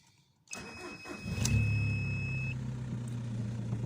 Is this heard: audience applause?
no